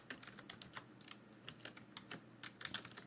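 Rapid, fairly faint keystrokes on a computer keyboard tap along in an irregular run of clicks, close by and alone without any voices.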